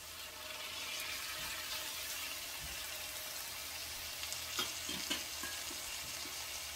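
Chopped tomatoes sizzling in a sofrito for paella over a medium-low flame, a steady soft hiss throughout with a few brief stirring clicks and scrapes near the end, no talking.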